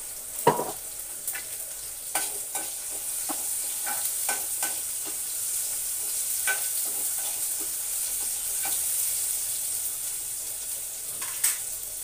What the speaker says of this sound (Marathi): कांदा टोमॅटो चांगला तेलामध्ये परतून झालाय